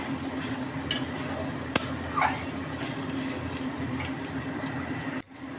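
Spice masala for fish being stirred and fried in mustard oil in a pan, a low continuous sizzle with a few faint clinks and scrapes of the spoon against the pot, close and without talk.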